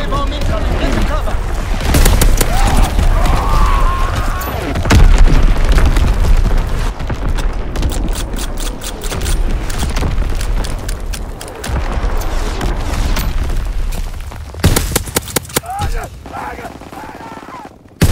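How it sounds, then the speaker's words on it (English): Incoming enemy artillery in the Call of Duty WWII video game, loud booming explosions and bursts of gunfire repeating throughout, with rapid crackling volleys near the end and game voices calling out over the barrage. "Incoming enemy artillery. Get to cover. Enemy bomb incoming."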